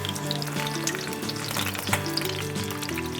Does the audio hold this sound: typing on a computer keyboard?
no